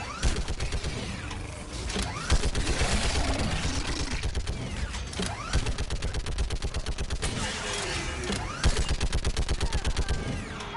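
Continuous battlefield gunfire in Mass Effect 3, dense overlapping bursts and rattling automatic fire with mechanical clanks throughout, loud and close with distant blasts mixed in.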